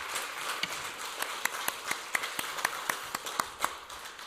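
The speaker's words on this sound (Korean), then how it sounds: "우리 다시 한번 하나님 앞에 영광의 박수 드리겠습니다" Sparse claps from a church congregation during a Sunday worship service, a few distinct hand claps spaced irregularly over a soft background, without building into full applause.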